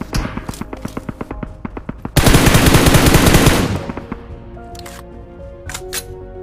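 Gunfire in a battle royale video game: rapid bursts of automatic shots crack in quick rhythm, then a dense loud barrage for over a second, trailing into scattered single shots and a few later bursts.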